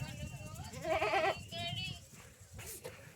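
A goat in a village herd of ten to fifteen goats lets out a wavering bleat close by, mixed in with people talking.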